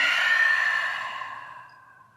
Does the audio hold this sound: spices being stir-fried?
no